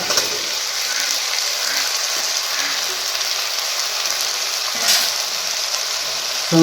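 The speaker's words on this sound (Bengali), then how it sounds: "তো দেখতেই পাচ্ছেন আমাদের ঝিঙেটা ফ্রাই হয়ে গেছে এবারে এর মধ্যে দিয়ে দেবো যেটা ফ্রাই করে রেখেছিলাম সে আলুটা" Ridge gourd and fried potato sizzle in a pan, a steady, close hiss of frying that runs throughout with brief louder spatters, while a person talks over it.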